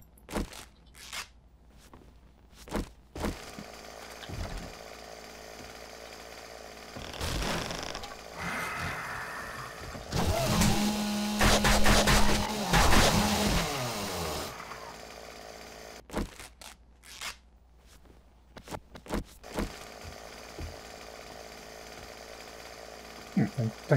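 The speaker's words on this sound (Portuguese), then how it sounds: "Eu tô meio nervoso com essa motosserra" A chainsaw revs and grinds against zombies in the video game 7 Days to Die. A harsh buzzing burst builds in the middle among crunching hits and clatter, with talk heard at times.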